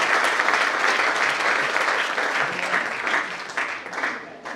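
Students and guests at a Kristen Pandega Jaya high school give loud, dense applause, a continuous close roar of clapping that holds steady and tapers slightly at the end.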